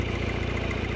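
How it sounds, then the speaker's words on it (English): Tractor engine idles steadily nearby, a constant low rumbling drone at moderate loudness with no talking. "I still got the tractor behind me running."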